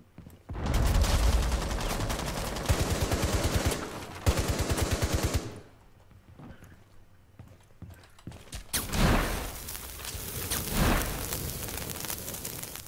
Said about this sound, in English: I'm a bit under fire.